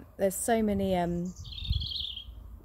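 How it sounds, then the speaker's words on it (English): Birds chirp in a blooming home garden in spring, a bright, fairly faint tweet heard just after a person speaks briefly. "so many birds singing"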